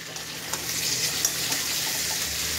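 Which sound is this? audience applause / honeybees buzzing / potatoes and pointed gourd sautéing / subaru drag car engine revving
potatoes and pointed gourd sautéing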